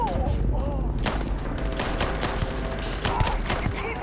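Rapid gunfire in a Starfield space firefight, sharp repeated shots cracking out in uneven bursts over a constant low rumble of game ambience, loud and close, with a player's voice briefly heard among the shots.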